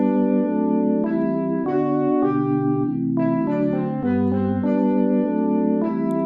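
A sustained melodic line of quick, evenly paced eighth notes, the third line of Bach's Canon Triplex, BWV 1076, plays over held lower tones, steady and clear with no voices.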